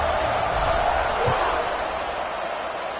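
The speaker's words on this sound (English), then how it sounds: "this crowd is buzzing after that last score." A stadium crowd buzzes in the College Football 26 video game during a USC at California matchup, building to a steady, loud roar that holds throughout with no pause.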